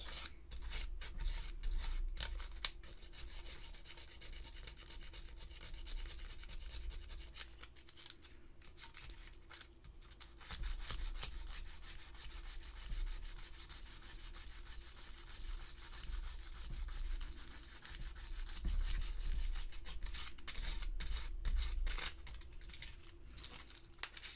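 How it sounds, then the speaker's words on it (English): Seam lines on a resin Xenomorph Queen model kit are sanded by hand, a faint, close, continuous scratchy rubbing in repeated strokes with brief pauses, heard alone without talk. "sand it a little bit like that"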